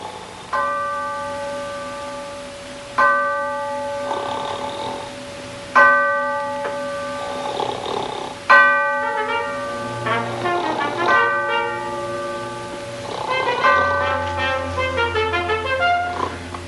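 A ship's bell strikes four times in pairs, each clear metallic ring sustaining and overlapping the next, ringing out alone in a quiet interior with no talk.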